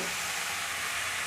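Chopped bottle gourd hits hot spices in a pan for a Bengali lau ghonto with hilsa fish head, giving a loud, dense, continuous sizzle of frying throughout.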